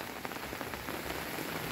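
Steady rain pattering on a surface outdoors during a red-alert storm in El Salvador, a continuous dense hiss with faint scattered drop taps and no voices.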